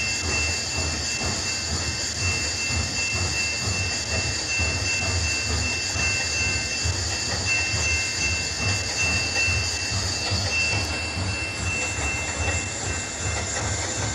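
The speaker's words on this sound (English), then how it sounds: "let's see how fast this locomotive can go" Polar Express steam locomotive running on rails, a steady loud roar of train wheels and rolling stock with faint squealing and clickety-clack, continuous throughout with no voices.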